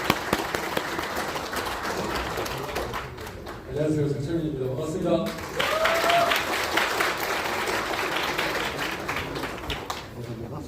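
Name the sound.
audience applause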